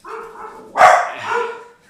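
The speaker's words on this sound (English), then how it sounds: "that's a dog and a cat" A dog barks in a single loud, sharp burst indoors during a live stream with a cat also around, with softer yelps and whimpers before and after it.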